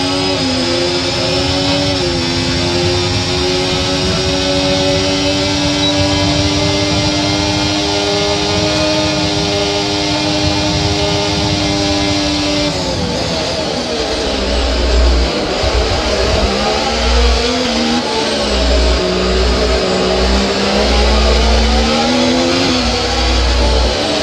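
F1 24 race cars at the Miami Grand Prix scream at high revs close by, a steady engine whine giving way midway to a choppier mix of revving and passing cars, loud and continuous with no talk.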